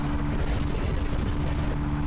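RPS Racer Z40 motorcycle power shifting into fourth gear while climbing a long hill, a loud, continuous engine drone with steady tonal hum and rushing wind noise, no pause in the pull.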